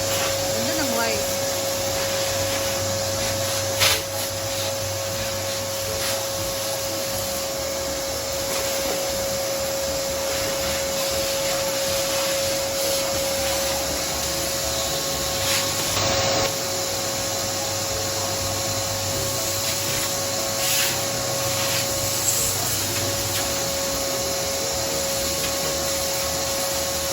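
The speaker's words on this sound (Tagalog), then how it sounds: "Gamit lang siya dyan ng vacuum," A vacuum cleaner runs continuously with a steady loud whine and airflow roar while cleaning up after wall panels are installed behind a TV at home, with occasional bumps and brief voices.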